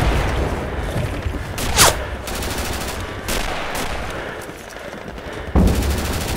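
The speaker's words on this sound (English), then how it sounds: "Yeah, I'm shooting at him." Video game gunfire in Pavlov's House, a few sharp loud shots spaced out over busy background game noise.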